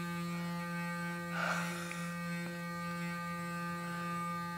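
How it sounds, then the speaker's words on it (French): A Clarisonic Mia 2 electric facial brush with a makeup brush head fitted hums steadily at close range, a constant low motorized drone with a brief louder swell partway through as the brush touches skin. "ma Clarisonic, c'est une Mia 2, j'ai appliqué la brosse dessus"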